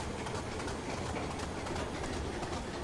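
A commuter diesel train in the Train Simulator 2015 video game rolls along with a continuous dense rumble and faint rhythmic clickety-clack, steady and moderately loud throughout.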